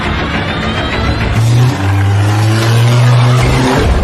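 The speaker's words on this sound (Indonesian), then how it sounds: "untuk masuk ke dalam mobil dan pergi secepatnya dari tempat ini" A car speeds away in a film scene, its engine roaring loudly up close with a sustained whine and tire noise as it accelerates away.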